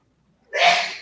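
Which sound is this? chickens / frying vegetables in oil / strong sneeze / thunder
strong sneeze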